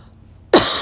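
A single short cough from a person recovering from surgery with a throat left scratchy by a breathing tube, close and loud after a moment of quiet.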